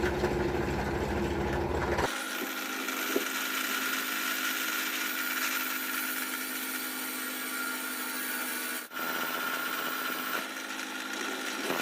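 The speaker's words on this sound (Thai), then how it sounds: "นำมาเจาะรูเพื่อร้อยน็อตด้วยดอกสว่านหนึ่งสี่" Power drill with a 14 bit boring bolt holes in a homemade wood-planing tool, a steady close whine running continuously, briefly dipping near the end.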